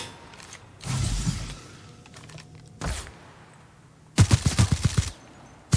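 Gunfire from the video game The Outer Worlds: a few scattered shots early, then a rapid burst of about eight sharp, loud reports near the end, with quieter game ambience between.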